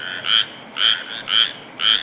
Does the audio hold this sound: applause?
no